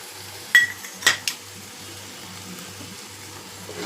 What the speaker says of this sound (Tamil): இப்போது இதை போட்டு அப்படியே மிக்ஸ் பண்ணி விட்டுறேன்